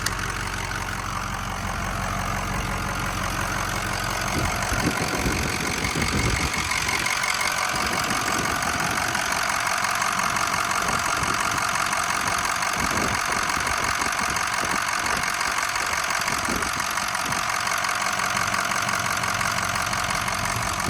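A 2005 Ford F250 Sport 4x4 with a Powerstroke diesel, warmed up after a drive, idles steadily and loudly close by, its low rumble carrying a persistent clattering knock throughout with no talking.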